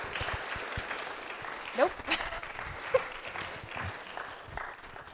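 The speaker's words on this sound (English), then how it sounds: "you can give them a little round of applause" Audience clapping at an alumni networking event, moderately quiet and steady with a few louder claps, while a voice briefly speaks over it.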